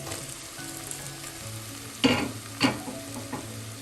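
Mackerel curry with coconut and mango fries in a pan with a steady low sizzle, broken by two sharp scraping stirs near the end.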